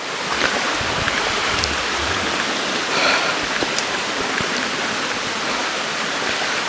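River water rushing near a waterfall in the Subang backcountry, a steady, dense broadband roar close by with no voices.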